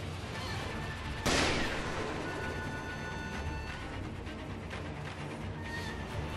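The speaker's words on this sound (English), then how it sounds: "she does the shooting so fast" Enemy gunfire in the video game Sekiro, with one sharp, loud shot burst early on, followed by a dense, continuous wash of game noise and combat crackle.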